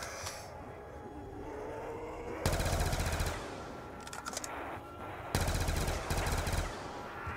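Automatic gunfire from a rifle fitted with an underbarrel grenade launcher in Call of Duty: Black Ops 2, two loud sustained bursts of rapid shots separated by quieter game noise and scattered pops.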